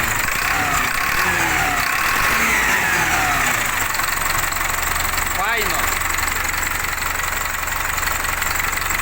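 A ZIL truck engine idles in a steady, rough, mid-pitched rumble that stays close and constant. Someone talks over the running engine.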